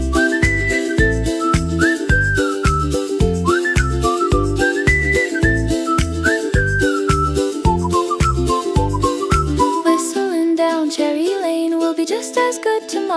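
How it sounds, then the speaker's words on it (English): Someone whistles a bright, bouncy tune over a steady rhythmic pop backing. The clear melody carries above a regular beat, and the beat drops away near the end while the whistling continues. "Whistling down Cherry Lane is just a good way to be."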